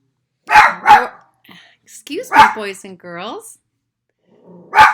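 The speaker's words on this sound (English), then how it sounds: "That's my dog." A dog barks twice loudly up close, then a voice speaks over a few more barks, with another bark at the end.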